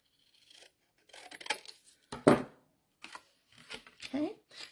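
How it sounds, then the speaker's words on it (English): Scissors snipping the tabs of a cardboard box shorter, a few short crisp cuts spaced apart, close and moderately loud, with some speech around them. "anytime you're making a box and you have tabs like this, you can cut them shorter"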